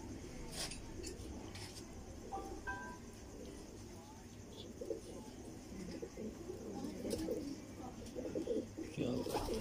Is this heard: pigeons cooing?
yes